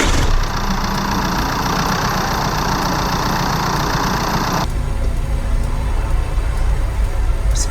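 An Audi Q5 engine idles just after a turbo install, a loud, steady close rumble that continues unbroken, with its tone shifting abruptly partway through.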